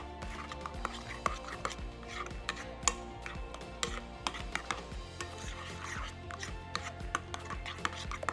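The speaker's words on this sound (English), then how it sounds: "Now we're just gonna incorporate all that together. So it's nice and mixed in." Ingredients for yogurt bark with vanilla being stirred and mixed in a bowl, steady light clicking and tapping taps of a utensil against the container repeating throughout at a moderate pace.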